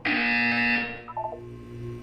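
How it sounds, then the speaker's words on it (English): A loud electronic buzzer from the video game Portal 2 sounds as a single sustained harmonic tone for under a second, followed by a short stuttering series of quieter beeps, with no talk over it. "When you hear the buzzer, look down at the floor."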